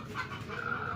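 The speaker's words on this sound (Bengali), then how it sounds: "এখন ডিম পাড়া মিশরি ফার্মি মোরগ" Egyptian Fayoumi laying hens cluck close by in a short, steady burst of soft, repeated calls, with no voices.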